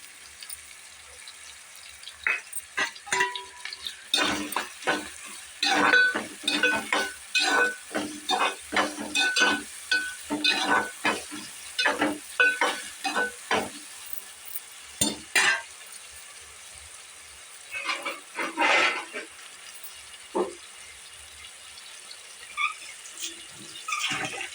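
Fish curry frying and being stirred in a pan, with repeated scraping and clinking strokes over a steady sizzle, loud and close, with a couple of quieter pauses toward the end.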